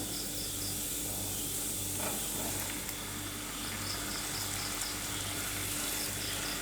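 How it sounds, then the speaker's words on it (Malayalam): One kilo of mutton liver frying in masala paste and being stirred, a dense continuous sizzle with a steady hum underneath and no voices. "നന്നായിട്ട് ഇളക്കി കൊടുക്കുക. ആ അരപ്പ് നന്നായിട്ട് എല്ലായിടത്തും ചെല്ലുന്ന രീതിയിൽ മിക്സ് ചെയ്തെടുക്കുക."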